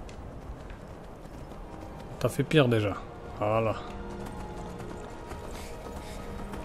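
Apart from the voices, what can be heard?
horse hooves galloping in video game Skyrim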